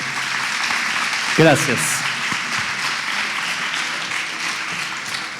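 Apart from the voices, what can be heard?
audience applause for a keynote speaker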